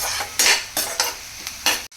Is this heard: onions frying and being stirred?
yes